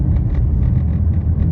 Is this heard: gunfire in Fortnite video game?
no